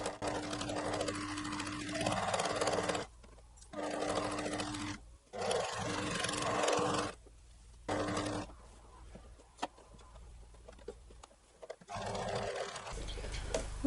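Sewing machine stitching a shirt being made over into an outfit, running in several steady bursts of a few seconds each, separated by short pauses, at close range with no talking.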